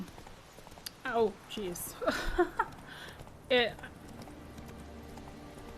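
Horse hooves clip-clop during a ride in the video game The Witcher 3, a few short bursts of hoofbeats amid game ambience, with a player briefly speaking.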